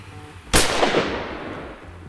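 A single loud rifle shot at a shooting range with a target at 100 metres, an abrupt sharp crack followed by a long fading echo, close by.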